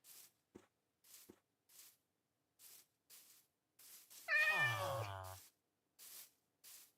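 A Minecraft cat gives a single clear, drawn-out meow midway, set among quiet regular footsteps and soft game sounds in an otherwise silent scene.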